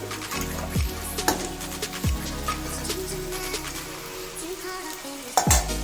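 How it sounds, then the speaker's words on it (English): Butter sizzles in a kadai, a steady frying hiss broken by a few scraping stirring strokes and the light clatter of a spoon against the pan. "Now I am going to add half spoon of butter again."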